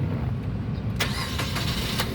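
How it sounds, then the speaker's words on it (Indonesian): Suzuki Karimun Wagon R 2018 1.0 GL manual car starts up after a second of quiet, its starter cranking into a steady, near engine idle with faint metallic ticking on top. "nah berikutnya sekarang kita coba nyalakan mobil ya"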